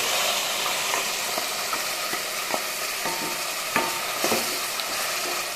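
Ground masala paste for mushroom masala fries in a pan, a steady broadband sizzle with repeated scraping stirs of a spoon against the pan, close and loud, with no talk.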